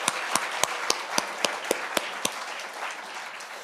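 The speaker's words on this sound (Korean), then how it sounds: "박수하겠습니다" Church congregation clapping at a Sunday Christmas Eve service, with sharp, evenly spaced claps in a steady rhythm that loosen into a softer, scattered patter of applause.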